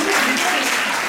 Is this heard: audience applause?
yes